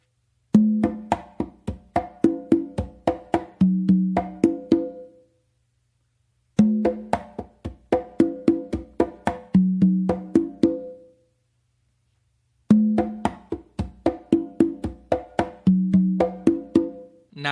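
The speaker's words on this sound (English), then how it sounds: "So to play the whole tumbao without actually playing it through, it's gonna sound like this." Full tumbao rhythm on conga drums, repeated three times as brisk bursts of ringing open tones mixed with muted taps and slaps, close and loud with short pauses between passes.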